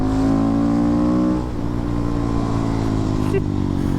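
A KTM 690 SMCR single-cylinder motorcycle engine droning steadily and loud while being ridden, holding a rich, even pitch that drops slightly partway through.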